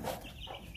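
Chickens calling in a village farmyard, with short, close clucking and cheeping bursts over a low background hum.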